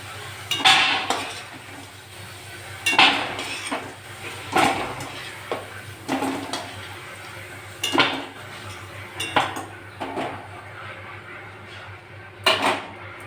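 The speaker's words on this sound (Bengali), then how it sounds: "আলুটা ভাজা হয়ে গেছে আমি এবার আলুটা তুলে নেবো" Fried potatoes being lifted out of a pan, a series of sharp metal scrapes and clinks of a spatula against cookware at irregular intervals, close and fairly loud over a quiet background hum.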